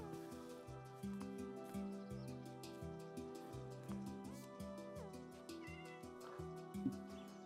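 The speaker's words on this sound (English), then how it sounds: "I can hear a cat" A cat meows in the Minecraft video game over steady, looping game music, with a few short, fairly quiet meows and no one speaking.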